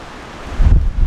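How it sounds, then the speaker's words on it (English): Wild wind and rain storm gusting around a tent in the bush among big pines, a steady rushing blow that swells into loud, close buffeting roar partway through. "Hunkering down in the wild weather, rain and wind."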